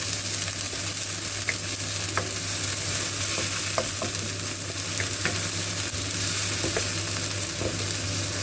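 Pork leg is stir-fried in a hot pan for a spicy stir-fry, a dense continuous sizzle with repeated scraping and clacking of a spatula against the pan.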